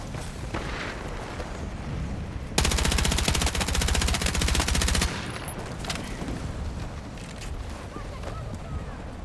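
Gunfire aimed at the player in the video game Battlefield RedSec: loud, sustained rapid automatic bursts for a few seconds amid a busy battlefield din, followed by continuing scattered shots and rumble.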